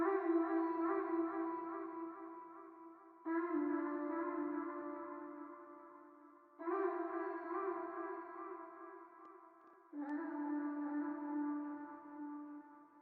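A sustained synthetic vocal-like tone, a reverb-heavy vocal sample in the bridge of an R&B beat, repeats in four long phrases, each starting abruptly and slowly fading with a washy, echoing tail; quiet and alone.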